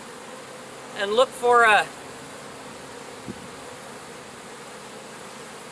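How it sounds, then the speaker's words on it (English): Honey bees hum steadily in an opened hive, with a brief louder buzzing burst near the start; a person says a single word. "I'm gonna smoke the bees off the top bars"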